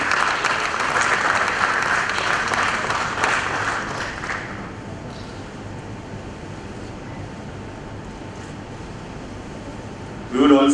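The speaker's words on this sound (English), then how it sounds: "Please have a round of applause" Indoor audience at a company stock listing ceremony for Zeal Aqua Limited breaks into loud, sustained applause that fades out after about four seconds, leaving a quiet room tone until a brief sound at the end.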